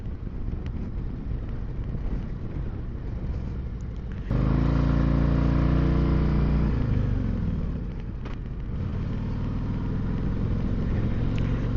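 A Harley-Davidson CVO Street Glide motorcycle ridden along a road, its engine rumble growing louder and fuller midway through, with steady wind buffeting the microphone throughout and no talking.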